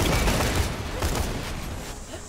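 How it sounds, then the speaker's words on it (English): Shotgun blasts in the co-op shooter Borderlands The Pre-Sequel, a loud, dense burst of gunfire filling the short moment with continuous crackling impacts and no pause between shots. "Shotgun."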